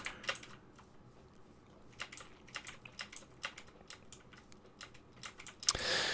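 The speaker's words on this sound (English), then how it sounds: "forgive me if you can hear my mouse or my keyboard. It's very clicky." A clicky computer keyboard and mouse during a Minecraft survival game session, with quiet, irregular key and button clicks tapping away in short runs and no talk.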